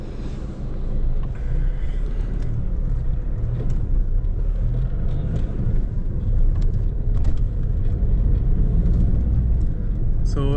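A Suzuki S-Cross 1.6 diesel crossover cruises on a highway, giving a steady, loud cabin drone of engine and road rumble that holds evenly throughout.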